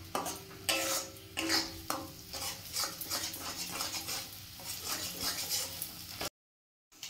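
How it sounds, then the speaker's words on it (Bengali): Beaten eggs seasoned with pepper powder are scrambled and fried in a pan, with a steady close sizzle and scraping stirring strokes throughout, no voices, ending in a short silence. "ডিমগুলো ভুজি করে ভাজা হয়ে গেছে,"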